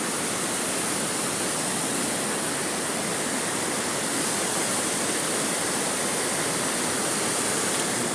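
The Amtereng river in Karbi Anglong, Assam, flows with a constant broadband rush of water, steady and fairly close, with no other sounds over it.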